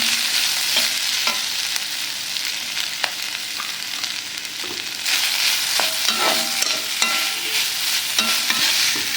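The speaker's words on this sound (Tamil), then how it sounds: "நம்ம சின்ன வெங்காயம் சேர்த்து வதங்கும் போதே பார்த்திங்கன்னா கொஞ்சமாக முந்திரி பருப்பு, 1 முடி அளவுக்கு தேங்காய் திரி வச்சுருக்கேன்ல அதை போட்டு ஆக்கணும்" Shallots fry in a pan with cashews and coconut, a steady close sizzle broken by scraping stirs and occasional clinks of the spoon.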